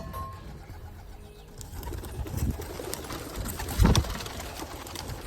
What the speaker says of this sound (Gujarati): એટલા કબૂતર જેટલા બેઠા એ બધા ઉપર ઉડશે